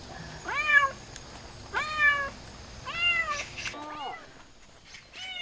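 A cat meows repeatedly, four or five distinct rising-falling calls spaced about a second apart, close and clear over faint outdoor background, just before being released back on Silido island.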